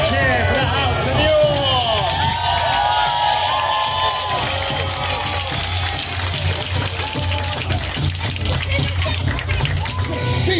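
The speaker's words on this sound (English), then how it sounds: "A cheer for House Lancaster!" A live crowd at a Wars of the Roses show at Warwick Castle cheers loudly for House Lancaster, a dense roar of shouts and whoops that stays strong for the whole stretch with children's voices mixed in.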